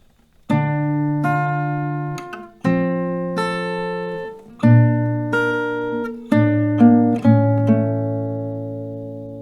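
Acoustic guitar notes are plucked one after another in a slow, ringing sequence, each note sustaining clearly before the next.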